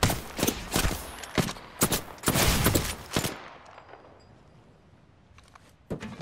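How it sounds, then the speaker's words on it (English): Rapid bursts of gunfire in an Apex Legends battle, loud, close shots in quick clusters for about three seconds, then fading to a quiet tail with a few faint clicks. "Shots fired."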